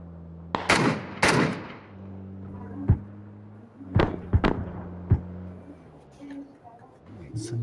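Gunshots from the PUBG video game: sharp single shots crack out irregularly, two close together early and several scattered ones later, over a steady low hum.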